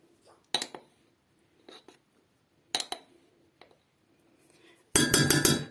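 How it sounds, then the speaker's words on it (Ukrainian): Scattered clinks of a utensil against a saucepan, a few sparse taps, then a louder rapid scraping and clattering as a mixture of milk, sugar and cocoa is stirred briskly. "Все гарненько вимішую."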